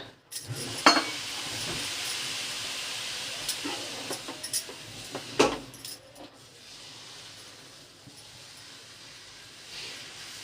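A kurmura (puffed rice) dosa fries on a pan over medium gas with a soft continuous hiss, broken by a few metallic spatula scrapes and clinks that fade to a quieter sizzle.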